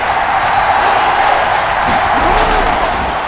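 A stadium crowd in the football video game Madden NFL 21 roars and cheers continuously at a steady, loud level, with a few faint whoops rising through the wash of noise.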